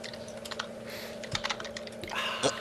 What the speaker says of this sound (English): She's typing that up, yeah.